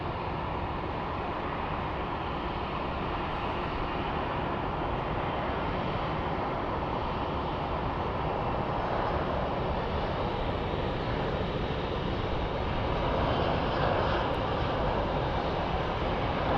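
Contour Airlines Embraer jet taking off at Phoenix Sky Harbor International Airport: a steady, broad engine roar holds for the whole clip, fairly loud and distant, with no talk.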